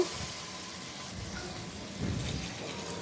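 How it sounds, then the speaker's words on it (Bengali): Water splashes and hisses into a pan of sautéed vegetables, a steady rushing pour with a sizzling wash that swells briefly louder near the end, close and unaccompanied by talk. "জল দিয়ে দিব পরিমাণ মতো"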